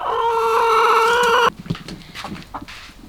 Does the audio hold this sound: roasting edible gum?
no